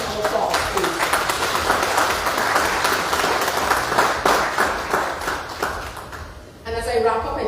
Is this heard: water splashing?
no